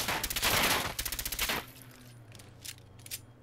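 A .38 Mac-11 machine pistol fired in Fallout 4, two rapid bursts of suppressed automatic fire, then a quieter stretch with a few scattered clicks and mechanical sounds.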